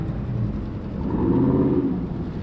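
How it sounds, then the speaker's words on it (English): Car engines rumble and rev at a crowded street race on a wide multi-lane boulevard among muscle cars, a low steady drone that swells louder midway and then eases, heard from a short distance with no talk. "The revving engines, the squealing tires, the popping tailpipes, honking horns grew louder as I approached."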